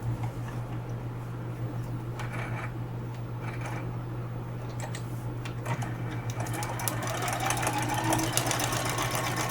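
A sewing machine stitches a quilt sashing seam with a continuous, even motor hum and fast mechanical ticking throughout, close by, with light handling noises over it.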